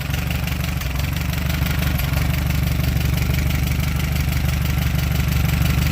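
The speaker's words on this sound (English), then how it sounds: "There it is, idling." Small engine idling with the choke open after a carburetor replacement, running steady and close with an even, throbbing rhythm and no pauses throughout.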